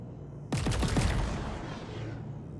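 A weapon in Chorus fires three quick, loud shots in close succession, each with a sharp attack and a descending whine, then a long fading rumble with no voices.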